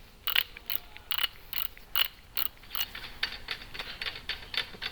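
A ratchet wrench clicks in quick repeated bursts while bolts are tightened on a brake caliper during a DBA 4000 series rotor and STILLEN brake pad install, close and crisp with short pauses between strokes.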